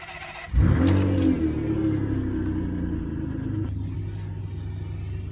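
A Ferrari 612 Scaglietti engine bursts into a loud, close revving rumble that swells then settles into a steady driving drone, with a second slight surge later.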